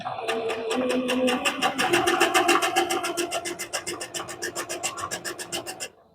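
A sewing machine stitching a fabric ruffle, a close, loud run of rapid, evenly spaced needle pulses that settle into a steady rhythm before stopping abruptly.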